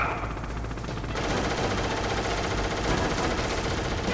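Hind D helicopter gunfire in the Metal Gear Solid video game, a loud, steady stream of rapid automatic shots rattling without pause across the whole stretch, with no talking over it.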